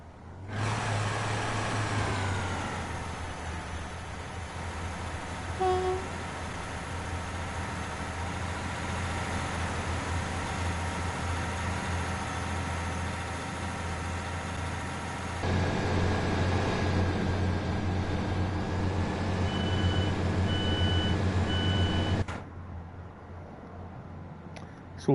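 A diesel train engine in Train Sim World 5 idles then revs hard, a loud sustained drone rising in intensity before cutting back near the end, with cab beeps and no talk.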